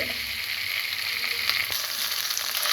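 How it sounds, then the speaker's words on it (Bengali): Ginger and garlic paste sizzle with spice masala in hot oil for an egg korma, a steady close hiss of frying with faint stirring scrapes and no talking. "আদা 1 চামচ আদা এবং 1 চামচ রসুন দিয়ে এটাকে আমি মশলাটাকে কষিয়ে নিচ্ছি।"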